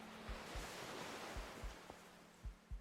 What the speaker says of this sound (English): The sea is violent.